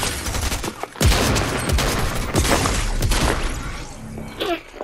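Loud, dense gunfire in the video game Fortnite, rapid overlapping shots and sharp cracks in quick succession, close and continuous for several seconds, with a faint voice near the end.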